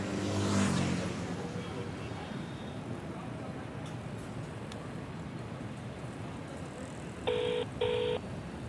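A telephone is dialed, with two short touch-tone beeps near the end over a steady hum of road traffic, after a car engine surges loudly at the start.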